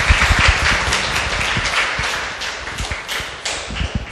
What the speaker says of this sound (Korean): 큰 박수로 감사한 마음 전하죠.